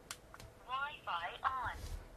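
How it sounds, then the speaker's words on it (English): The BlackVue DR550GW two-channel Wi-Fi dashcam's synthesized voice announces that Wi-Fi is on. It is a short, clear, close-up prompt in a quiet setting with some faint clicks around it. "The camera will tell you that the Wi-Fi is on"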